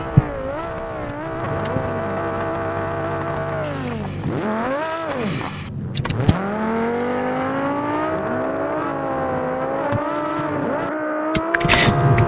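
A Formula 3 race car in the BeamNG racing game drives out onto the track, its engine loud and close with rising and falling revs, repeated gear changes and a sharp drop in pitch midway.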